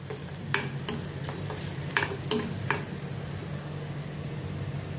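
Onions sautéing in a pan for dum aloo, a steady low sizzle with a few sharp stirring scrapes and clinks of a spoon against the pan, close and moderately loud, with no talking.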